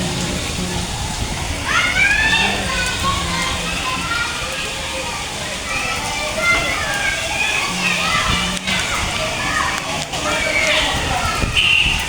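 Steady rain falling outdoors on a scenic rural day: a continuous broad hiss and patter, close and fairly loud, with faint background sounds mixed in.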